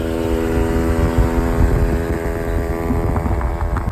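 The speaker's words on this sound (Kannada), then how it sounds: "bike sound" A motorbike engine drones steadily and loudly for several seconds with a constant low hum, as a group of friends rides past on bikes.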